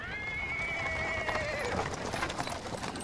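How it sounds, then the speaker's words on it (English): A sad little horse draws a cart over paving stones in Pathfinder: Wrath of the Righteous, a drawn-out whinny rising over steady hoof clip-clop and rolling wheels, close and clear. "the sound of wheels rolling on paving stones. A cart drawn by a sad little horse appears"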